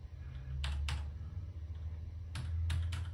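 Typing on a MEGA65 computer keyboard, a few close, sharp key clicks in two small bursts, with a low steady hum underneath.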